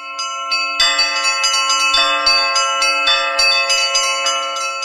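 A church bell at an icon church in Yekaterinburg rings loudly and up close, its struck tones sounding again and again in a steady rhythm with long ringing overtones that overlap, with no voices.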